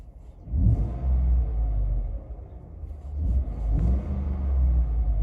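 A car engine runs at a low idle, then revs up twice in rumbling surges with a drop back between them after a fix for rough idle and hesitation, loud and close.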